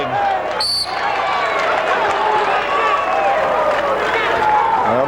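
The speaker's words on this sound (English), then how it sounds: "the crowd's getting into it a little now" Arena crowd noise swells steadily through a Big Ten wrestling finals match, a continuous loud roar of spectators with a brief whistle-like tone early on, running alone without anyone speaking.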